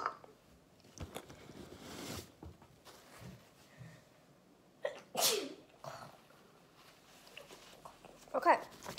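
A person sneezes sharply once in a kitchen while making matcha brownies, one sudden loud burst amid quiet background with scattered small handling noises and soft talk.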